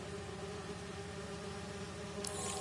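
Bees buzz in a Marvel's Spider-Man 2 video game scene, a steady droning hum that holds evenly throughout at a moderate level.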